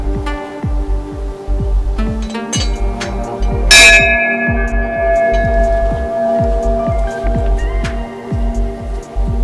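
Bells at Gorakhnath Temple in Champawat ring out in a quick, uneven series of metallic strikes. Their tones overlap and linger, with one especially loud, bright clang near the middle.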